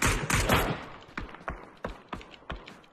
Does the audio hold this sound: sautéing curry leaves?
no